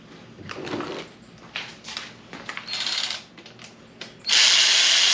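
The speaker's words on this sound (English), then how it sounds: "I like to put them all on and then I'll go back through and torque everything." Ratchet wrench working the engine bolts on a Gen 3 5.3 LS Chevy engine build, heard as several bursts of quick clicking ratchet strokes, close and fairly loud, ending in a longer sustained run with no talking.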